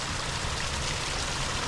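Water in a stream flows beside a valley path, a close, steady rushing and splashing wash that fills the short stretch without pause.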